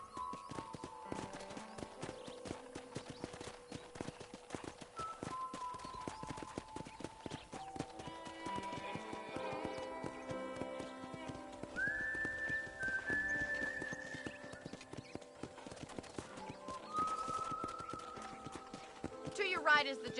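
Horse hooves clip-clop steadily in the Red Dead Redemption video game as a ranch tour begins, a continuous trotting rhythm under game music and spoken dialogue, with a brief whinny-like tone near the end.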